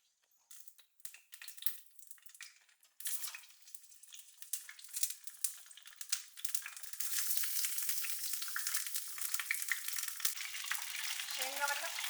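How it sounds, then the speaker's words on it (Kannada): Eggplant frying in plenty of oil in a pan, a steady crackling sizzle that starts faint and grows louder and denser, with occasional stirring scrapes and no talking. "ಸ್ವಲ್ಪ ಎಣ್ಣೆ ಜಾಸ್ತಿ ಬೇಕು, ಬದನೆಕಾಯಿ ಫ್ರೈ ಆಗಲಿ ಇದರಲ್ಲಿ"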